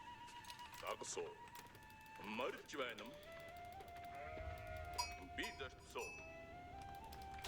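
Sheep in the Age of Empires 4 strategy game bleat several times amid faint game effects and clicking of keys and mouse, with a person talking quietly over it.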